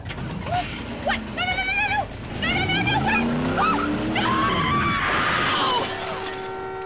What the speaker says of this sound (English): They always wreck this bitch's car